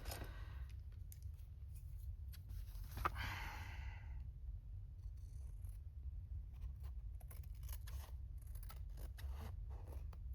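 Scissors snip through quilt fabric scraps in a few quiet, close cuts, one brief crisp burst standing out near the start, over a steady low hum in a quiet room.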